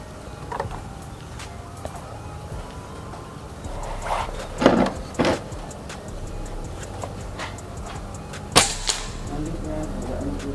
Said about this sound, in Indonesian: Nah, ini langsung aja ya kita ke tembakan yang pertama.